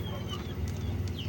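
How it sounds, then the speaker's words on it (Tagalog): Backyard gamefowl chickens cluck softly while feeding. Brief, close clucks and a couple of higher calls come over a low, steady outdoor rumble. "Pinakain ko yung mga manok natin dito sa backyard ko"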